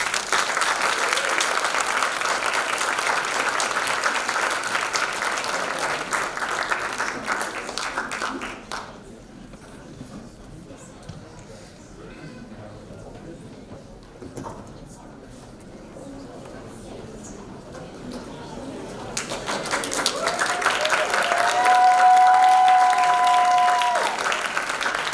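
An audience at the University of Miami Three Minute Thesis Competition 2025 gives loud, sustained applause for the competitors, which fades to a quieter hall with murmuring before clapping swells again beneath a voice.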